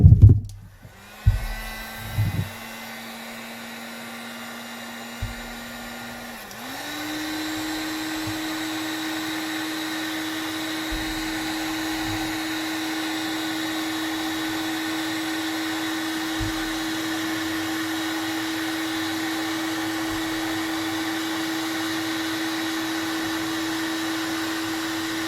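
A heat gun warming an AN oil line fitting starts with a few knocks, then settles into a loud, steady blowing whir that climbs slightly in pitch and holds constant, with no talk over it.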